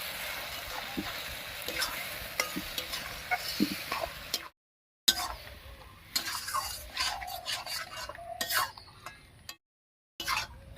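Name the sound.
mixing ground taro stems with spices in a pan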